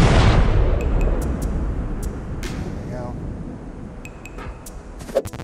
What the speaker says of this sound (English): then it's a case of slowly judging distance and taking fire with the cannon